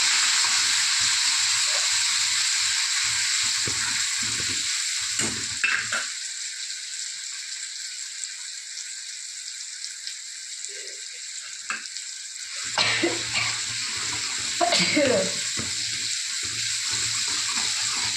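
Onions and tomatoes frying and being stirred in a pan, a steady close sizzle with scraping stirs that drops out briefly before the hissing and clatter of stirring return.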